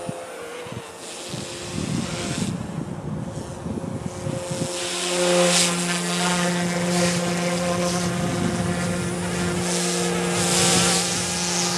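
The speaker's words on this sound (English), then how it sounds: "Definitely one of the nicest little helis I've ever flown." An OMPHobby M2 RC helicopter flies nearby, giving a steady buzzing rotor hum with a whining tone that climbs and holds as it gets louder in the second half. No one speaks.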